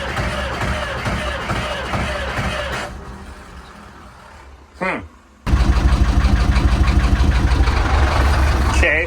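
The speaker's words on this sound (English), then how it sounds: "let's just let this thing idle for a bit, I suppose. Get some heat in the motor." A diesel engine fitted with glow plugs cranks and catches, then settles into a loud, steady idle with a rhythmic knock. Earlier, a person talks over low engine and yard noise.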